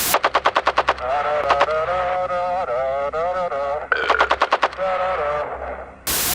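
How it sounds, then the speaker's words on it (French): Rapid bursts of film-style machine gun fire, close and loud, broken by a sustained wavering tone between the volleys, with a final sharp burst at the end. "avaient décidé de tirer à plein pot à la mitrailleuse sur la Lune"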